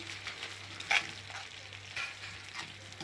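Onions and cumin frying for a kefta tagine, a soft steady sizzle with a few louder crackles and stirring scrapes, close up and with no voices.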